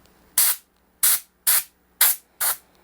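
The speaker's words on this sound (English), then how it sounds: "Let's blow out any dust we may have down in our side dots, because we don't want that sealed in." Compressed air blasts dust out of the side dots of a rosewood Telecaster's fretboard before it is sealed with epoxy: five short, sharp hissing bursts at a steady rhythm, each cut off cleanly, with quiet gaps between.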